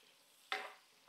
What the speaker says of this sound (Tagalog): Konting halo, ilang bilingan.